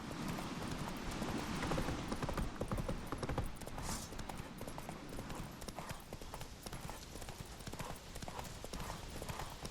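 A horse gallops in The Witcher 3, its hooves clip-clopping in a fast, continuous rhythm that stays faint throughout.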